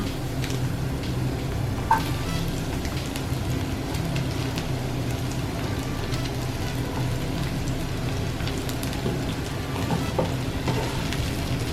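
Spices and cut taro stolons fry in a pan over mustard-based cooking, giving a steady, close crackling sizzle with a few sharper pops throughout and no talking.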